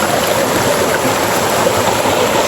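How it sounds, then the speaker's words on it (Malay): A rocky mountain river flows over stones, a steady close rushing and gurgling of water with no voices. "sekarang kita berada di tepi sungai yang batu juk aliran sungai dari gunung."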